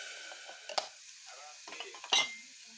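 A spoon scrapes and clinks against a pan while food is stirred, with a few distinct taps and a faint sizzle beneath, fairly close and quiet.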